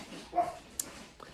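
A dog gives a single short bark, then a brief high yip, both faint and somewhat distant against quiet background noise.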